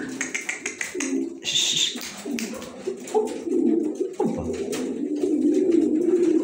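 Pigeons coo in a loft box, with soft repeated throaty calls and some tapping and wing flutters close by, while a person talks over them.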